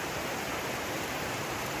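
Evening rain falling in a Ratnagiri village, a steady dense hiss of broadband noise, continuous and moderately loud with no distinct drops or voices.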